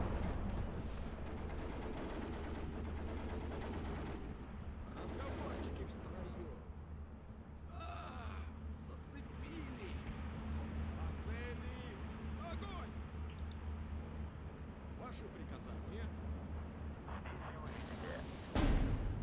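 Artillery fire in the real-time strategy game Steel Division 2, distant booming shots and rumbling impacts scattered under steady battlefield ambience, with a voice talking over much of it.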